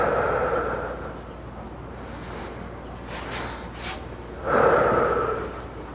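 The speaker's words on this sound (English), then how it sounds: "I'll breathe in through my nose as much as I can bring in, and then I'll bring in a little bit more, and then I'll breathe it out all through my mouth" A person takes a slow, deep breath in through the nose and lets it out through the mouth, with long airy inhales and exhales close up, alone and without talk.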